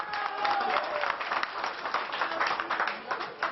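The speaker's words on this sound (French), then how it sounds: "sous les applaudissements des agriculteurs" Farmers at a roadside toll booth protest applaud passing drivers, a lively, uneven round of clapping with crowd voices mixed in, heard up close over a narrow broadcast band.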